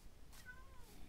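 A video game cat gives one faint, brief, rising meow over a soft background hum.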